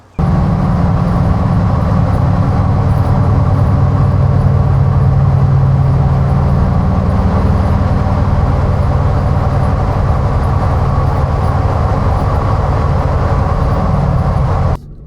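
Chevy Colorado pickup with a MilesRunner inflatable camper top cruising on the highway; loud, constant road and wind roar fills the cabin without a break and with no talking.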